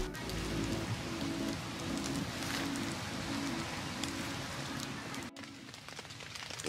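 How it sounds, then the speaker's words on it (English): Morning rain at an island campsite falls steadily on surfaces with a dense, continuous patter, close and even throughout, with a faint low hum beneath and no talking. "It's raining this morning."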